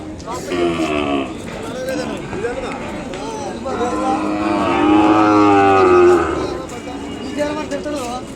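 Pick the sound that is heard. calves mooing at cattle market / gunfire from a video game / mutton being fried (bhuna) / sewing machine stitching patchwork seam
calves mooing at cattle market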